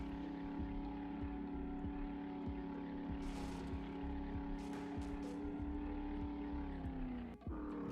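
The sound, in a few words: 4x4 vehicle engine driving in 7 Days to Die video game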